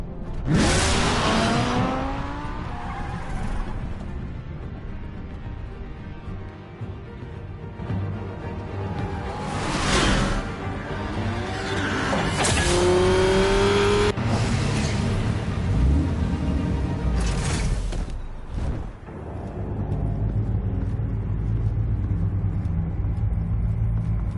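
A car drives and revs in the Batman Telltale video game, engine roaring and rising through several loud acceleration bursts over about twenty-four seconds, with whooshes and a sharp transient near the end.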